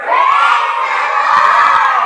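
A crowd of children at a vacation Bible school shouts together in one loud, sustained cheer that lasts about two seconds.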